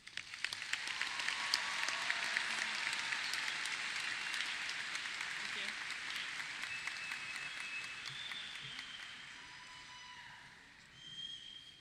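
A crowd at the Kettle Run High School 2026 graduation ceremony claps in dense, sustained applause that swells early, holds steady for several seconds and then gradually thins and fades, with no voices over it.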